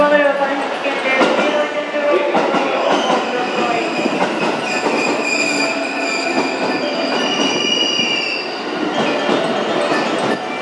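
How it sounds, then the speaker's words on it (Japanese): A JR 221 series local train arrives at Tennoji station, its wheels squealing and rumbling steadily as it pulls in close by, while platform announcements play over the noise. "16番は電車到着しております。"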